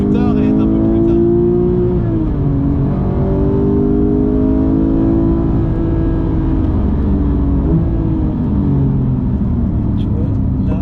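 A manual Porsche GT3 Touring accelerates out of a corner with a loud, continuous engine note that climbs and shifts in pitch, heard from inside the car; a person speaks over it.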